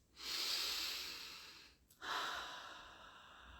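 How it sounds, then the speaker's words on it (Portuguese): Two slow, deep breaths taken close up: a long airy exhale fades out, then a fresh breath begins, each a soft breathy rush with a short pause between. "Vá fazendo algumas respirações bem profundas."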